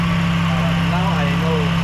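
A Toyota Vios Gen 1 with a replaced throttle body and a dropping idle runs at a steady, close idle hum with a constant low drone and slight vibration, while people talk over it.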